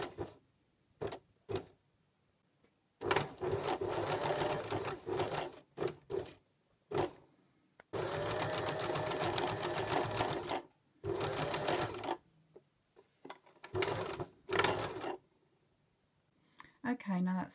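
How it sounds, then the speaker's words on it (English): Sewing machine running a long stitch along a flat collar a centimetre from the edge, in short and longer bursts between pauses, close and clear. "use a long machine stitch and sew this a centimetre from the edge"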